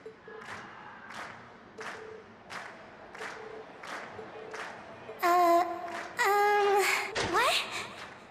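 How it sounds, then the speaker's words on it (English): A crowd cheers at a concert in the video game Trails of Cold Steel, with rhythmic bursts of shouting that build into louder, sustained cheers and chant-like cries toward the end. "we've heard your cheers loud and clear"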